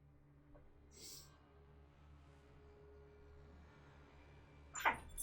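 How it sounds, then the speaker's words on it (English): Dog barks and yips at another dog indoors, a faint short yelp early on, then a sharper bark near the end, over quiet low hum. "Dog's yelling at my other dog."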